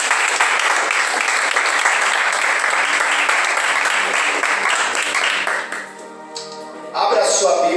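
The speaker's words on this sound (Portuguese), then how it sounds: "aplaudir para o Senhor" A church congregation applauds loudly and continuously during a Portuguese-language service, the clapping holding steady before briefly dipping and then swelling again near the end.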